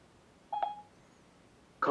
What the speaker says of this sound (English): we're making a phone call to Reginald